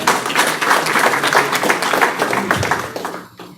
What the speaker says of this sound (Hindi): तो इनके लिए तालियां हुई हैं।